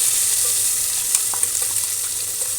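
Ground pepper and cumin hit hot oil in a pan for millet pongal, giving a bright, steady close sizzle with a few faint stirring clicks and no talking.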